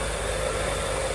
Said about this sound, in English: I'm gonna let that engine run for a moment more